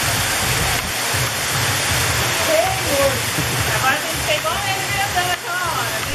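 A waterfall near the Furnas hydroelectric dam gives a steady, full rushing roar throughout, with faint voices mixed in the background.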